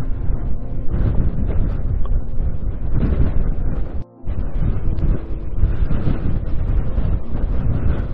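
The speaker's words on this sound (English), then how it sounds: "And the wind is blowing really good." Strong wind buffeting the microphone at a high scenic lookout in rugged Newfoundland, a loud continuous rumbling roar with one brief drop near the middle.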